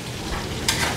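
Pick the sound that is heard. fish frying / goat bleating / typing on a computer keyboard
fish frying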